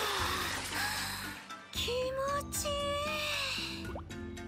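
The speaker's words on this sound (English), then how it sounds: "we slowly let ourselves get acclimated into the water. I sink in a bit." Soft water drips, plops and small splashes as a character sinks slowly into a hot spring in a video game, quiet and close over a steady background music bed.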